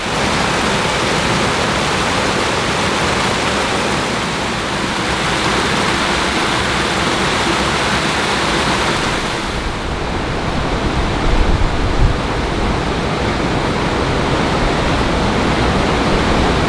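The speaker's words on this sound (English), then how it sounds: "it's actually the flow of water and the vast amount" Heavy floodwater surges along the Trent & Mersey Canal, a loud, continuous roaring rush like a weir or waterfall, steady throughout with no voices.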